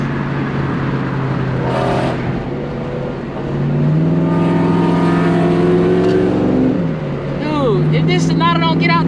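A Ford Mustang with a Coyote engine races an Audi on back roads, its engine droning steadily and then building louder as it accelerates, while people talk over it.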